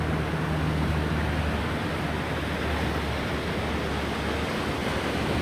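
Ocean surf washes over the La Jolla tide pools as the tide rises, making a steady, moderately soft hiss and rumble with no voices.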